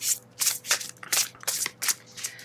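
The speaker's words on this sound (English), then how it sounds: "Let's just give it a quick shuffle." Close, crisp riffling of a deck of large oracle cards being shuffled, several quick bursts in an irregular rhythm.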